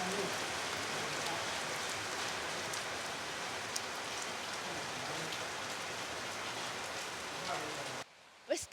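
Steady rain falls in rural Harbin, a dense, even hiss of drops on surfaces filling most of the stretch before it cuts off near the end, with a brief knock after.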